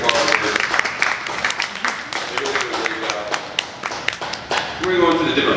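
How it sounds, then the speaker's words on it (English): An audience at a glass studio applauds the volunteers, a short round of clapping with some louder individual claps, fading out near the end as a voice begins. "We give them a round of applause for doing all that voluntary part."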